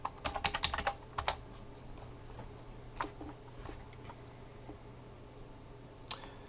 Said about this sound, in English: we just got to type in the name of the app